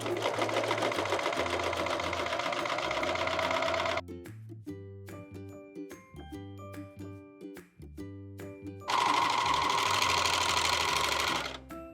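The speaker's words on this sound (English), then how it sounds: "So we're gonna serge these two layers together." A serger sewing machine stitches two fabric layers together, whirring loudly in two fast bursts, with a calmer stretch of tonal machine sound between them.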